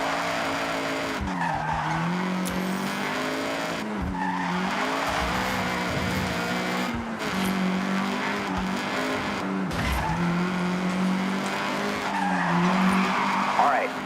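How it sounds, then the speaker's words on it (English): A Honda CRX in Forza Horizon revs hard, with the engine rising and dropping through gear changes while tires squeal and skid in repeated bursts, loud and up close. "All right, get the CRX up to speed."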